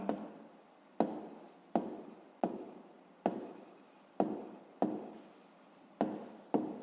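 A pen writes numbers into a notebook in short scratchy bursts, about nine quick strokes each starting sharply and trailing off, close and quiet with no voices.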